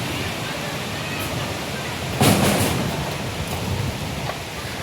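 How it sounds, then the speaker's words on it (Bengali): A heavy storm with rain outside. A steady roar of rain swells into a louder gust of wind-driven downpour partway through, then settles back to a constant hiss. "বিরাট বাইরে ঝড় আর বৃষ্টি উঠেছে"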